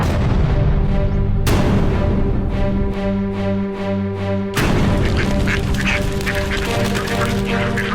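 Pet ducks in Bulacan quacking and honking loudly and continuously, a dense flock close by with overlapping calls and a steady background hum, no talk.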